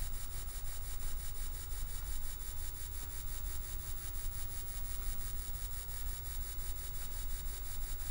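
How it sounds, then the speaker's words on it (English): A Sega CD Model 1 grinds steadily while reading a Philips CD-R burned at 8x speed, a constant rough, scraping mechanical drone with no pauses, running alone throughout. "You can tell with those grinding noises, that's not supposed to happen. You're not supposed to hear that on your Sega CD."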